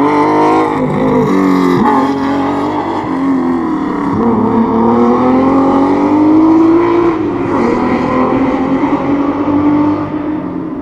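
A Ford Capri RS2600 roars around a track on a fast timed lap, its engine loud and close, rising and falling steadily through gear changes without pause for nearly eleven seconds.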